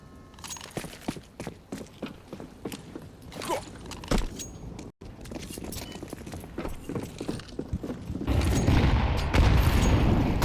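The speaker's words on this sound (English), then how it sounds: "That's a lot of nades." Grenades going off during a competitive Counter-Strike match, a series of dull distant blasts and scattered thuds with footstep-like clatter, building into a louder rumbling wash of explosions near the end.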